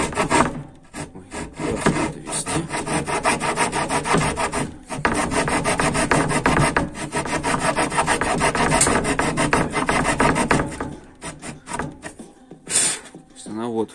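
A homemade blade in a hand jigsaw cuts through wood with steady, close rasping back-and-forth strokes that run almost continuously, briefly pausing before resuming and ending with a few scrapes.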